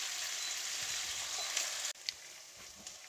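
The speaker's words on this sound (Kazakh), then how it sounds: "Ет пен пияз орташа отта жақсы қуырылды." Meat and onion frying over medium heat in a pan for palau, a steady bright sizzle that briefly cuts out before resuming with a few soft pops.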